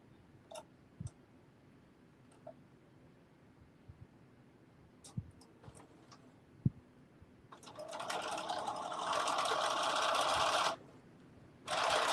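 Quiet clicks and handling noises give way to a sewing machine stitching a bucket hat in one steady run of about three seconds, followed by a brief restart.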